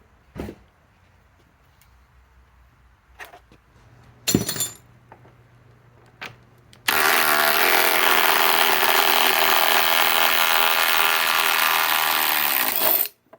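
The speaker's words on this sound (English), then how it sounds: "A really tiny impact driver with a flex battery" A Metabo HPT WH18DDX impact driver with a flex battery removes a bolt. A few scattered knocks and clinks come first, then a loud, sustained hammering rattle that runs for several seconds before stopping abruptly.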